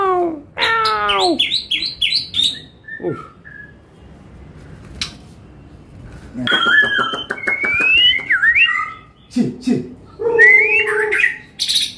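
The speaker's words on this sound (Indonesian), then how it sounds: "Murai versus Poksa Hongkong ini." Oriental magpie-robin and Hong Kong laughingthrush sing against each other close by in loud bursts of varied whistles, trills and chirps, with a quieter gap in the middle before the song returns.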